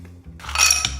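Ice goes into a glass of iced tea as one brief, close clink and rattle of cubes against the glass.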